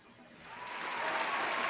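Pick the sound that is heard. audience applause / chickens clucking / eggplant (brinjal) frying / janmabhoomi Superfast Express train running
audience applause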